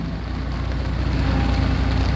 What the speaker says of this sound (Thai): ฝนตกมาแล้วทุกท่านนะ ทุกคนดูฝน เออลงเม็ดมาอย่างหนาเลย เปราะแปะเปราะแปะเลยนี่